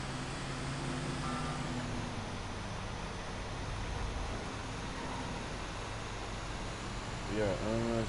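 A heavy gas garbage truck in Grand Theft Auto V drones with a low, steady engine rumble, rising near the end, with a faint beeping and a voice talking over it.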